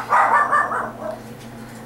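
Several dogs bark in quick succession indoors, a close burst of loud yaps for about a second, then fading and a last sharp bark.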